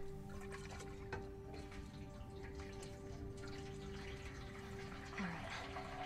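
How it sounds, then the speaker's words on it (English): Gasoline poured from a can in The Last of Us Remastered: Left Behind, a steady liquid glug and splash that runs continuously at moderate level with no talk over it. "Pour the gas in here."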